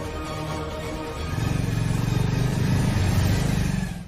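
A car engine idles nearby, then swells louder as the vehicle pulls away and holds a strong, rumbling drive before easing off at the end.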